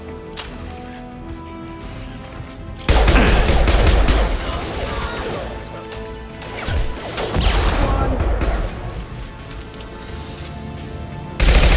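Impact shots are fired in loud volleys of rapid, crashing gunfire: one burst, a second after a quieter lull, and a third starting sharply at the very end.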